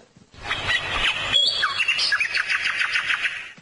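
A talking parrot gives a quick run of bright chirps and warbling whistles, close and fairly loud, after a few soft thumps, during a stage comedy show.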